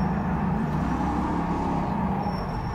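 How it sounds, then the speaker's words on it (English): Panoz Roadster in rFactor 2 drifting, a continuous broad engine and tyre roar holding steady at close range, no talking. "A little too much drifting there."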